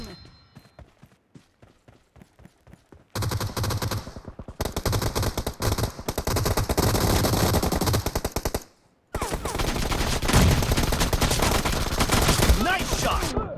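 Gunfire rattles through the mobile battle game PUBG Mobile on an iPhone. Sparse shots open, then loud, sustained automatic bursts follow, broken by a brief pause before more rapid firing.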